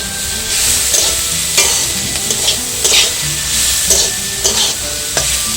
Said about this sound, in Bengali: সমস্ত কিছু দিয়ে এবারে নেড়ে নিচ্ছি।